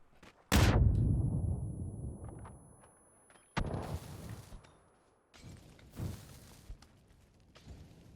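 Loud gunshots in the video game PUBG: a heavy blast with a long decaying tail, then a second sharp shot and a few more cracks in a burst, near and booming with echo.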